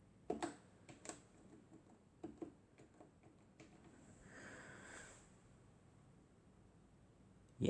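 Quiet, sparse clicking of keys on the keyboard of a vintage Minitel NFZ-9 terminal from Spain, a handful of light taps in small irregular bursts with a soft electronic hiss in the background.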